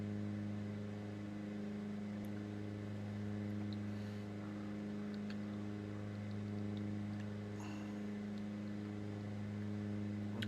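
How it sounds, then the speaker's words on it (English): A car engine in the Project Zomboid video game strains steadily as the vehicle fights for traction, a continuous low droning hum with slight swells in level, heard alone without speech. "Sorry for all the engine noise, guys. The car is straining a little bit with the traction."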